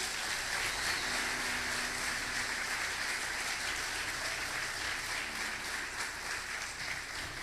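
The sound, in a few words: applause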